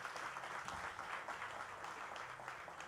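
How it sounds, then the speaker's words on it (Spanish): A church congregation applauds the mothers, producing a faint, continuous wash of distant clapping from a full room. "Démosle doble aplauso a las mamás"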